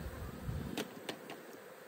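Honeybees around an open hive buzz close in a steady drone, with a few quick clicks and taps as something is handled nearby.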